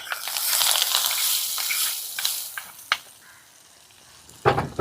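Hot curry-leaf tempering poured into a lime pickle, a loud burst of sizzling that fades to a soft crackle, with a few sharp clinks of a spoon or vessel near the end.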